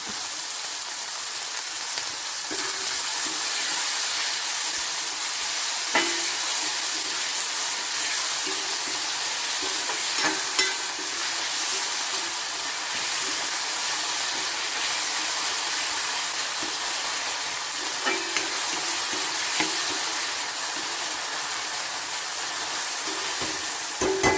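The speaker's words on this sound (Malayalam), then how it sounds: "തക്കാളി ഒന്ന് ഇത്തിരി ഒന്ന് വെന്ത് എണ്ണ തെളിയണം" Two small tomatoes cook in oil in a pan, with a faint, steady sizzling hiss that runs on unbroken for the whole stretch and a few soft ticks and pops.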